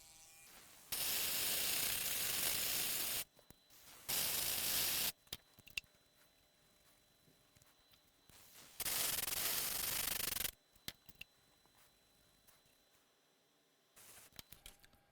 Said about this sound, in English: Let me grind some more.